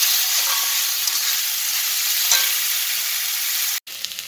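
Rice frying in ghee in a pan for payesh, a steady, loud sizzle with faint stirring scrapes, then a sharp cut and a few light clinks.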